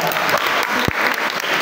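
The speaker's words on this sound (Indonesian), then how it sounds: "tepuk tangan semuanya" An audience claps together at a talk on tips for finishing a final thesis, a broad steady patter of many hands with a single sharp thump partway through.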